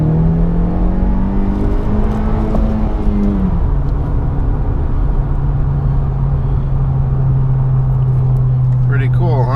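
A 2018 Honda Civic Si pulls hard at full throttle in second gear, its loud, steady engine drone climbing in pitch, dipping briefly at about three and a half seconds, then holding high and strong to the end.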